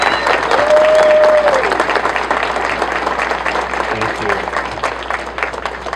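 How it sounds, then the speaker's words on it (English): An audience at a foundation check presentation breaks into steady applause, a dense wash of clapping from a crowd that stays loud for the whole stretch, with a few voices mixed in. "Let's give them a round of applause."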